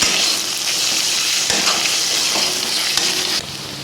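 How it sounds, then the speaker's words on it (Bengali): Ginger garlic paste sizzles and fries with onions in a pan, a steady close crackle with faint stirring scrapes and no voices. "তো আমার আদা রসুনের পেস্টটাও ভাজা ভাজা হয়ে গেছে।"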